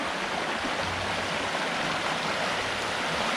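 River water flows in a steady, full rushing wash, close and continuous like a small stream over stones, with no voices.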